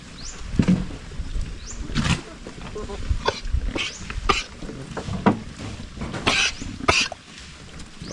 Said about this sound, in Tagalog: Ubo.